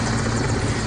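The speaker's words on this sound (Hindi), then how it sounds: "एयरफोर्स के हेलीकॉप्टर की मदद से नदी में फंसे आदमी को बचा लिया।" An Air Force rescue helicopter hovers over a flooded river in Jammu after heavy rain, its rotor a loud, steady, close thudding drone that fills the whole short stretch without a break.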